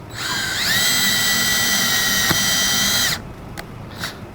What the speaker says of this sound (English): use a drill to drive that thing right in